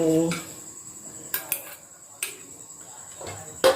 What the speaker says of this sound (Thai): ตักเอาขิงออกนะเพราะว่าจะไม่แช่ขิงไว้เนาะ